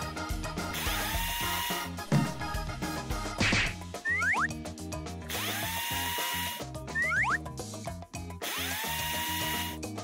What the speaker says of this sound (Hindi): ये ड्रिल अच्छा काम करती है।